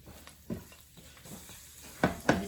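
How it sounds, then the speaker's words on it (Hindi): Chopped garlic and ginger sauté lightly in a pan, a soft sizzle broken by a few quiet scrapes and clinks of a spoon stirring against the metal. "ये चॉप किया हुआ मैंने आपको बताया था लहसुन अदरक जिंजर और गार्लिक है, इसको हल्का सा सौटे करेंगे"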